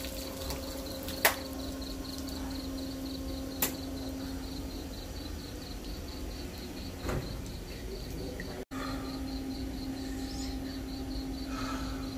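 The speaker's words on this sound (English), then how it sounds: "I can hear the crickets." Crickets chirp at night outside a temple in Ubon Ratchathani, Thailand, a faint steady pulsing trill running throughout with a couple of sharp knocks and a distant tone in the background.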